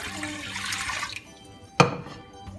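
Water pours into a tall cooking pan as honey syrup is started, a steady splashing stream that stops, followed by a brief clunk.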